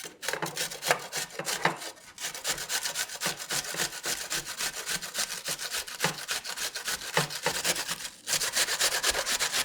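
Saffron being ground by hand for a lamb chop marinade, a steady rapid scraping and rubbing rhythm, close and continuous with a brief pause near the end.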